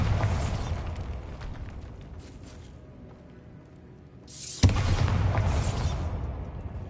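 A Bombarda blasting spell goes off in Hogwarts Legacy, a sudden loud burst with a sharp onset that cuts through a quieter stretch of game ambience. A dense, sustained rumble follows the blast.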